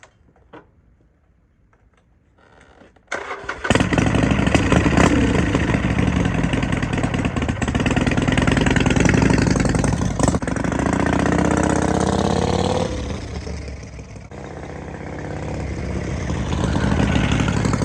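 A 1972 Harley-Davidson motorcycle fitted with exhaust baffles, near and loud, fires up after a few seconds of quiet and settles into a steady, throaty idle that holds through to the end.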